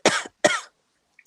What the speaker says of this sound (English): we don't trust a cough these days